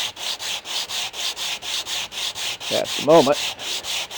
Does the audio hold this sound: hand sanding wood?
yes